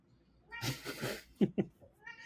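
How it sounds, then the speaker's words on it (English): A domestic cat yowls once, then gives two short, sharp meows in quick succession, close but fairly quiet, with a faint trailing cry afterward. "my cat's going crazy"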